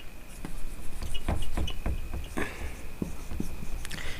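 A teacher's pen or chalk scratches out a series of short, sharp writing strokes during a class 10 lesson on spherical mirrors, with a faint steady tone in the background.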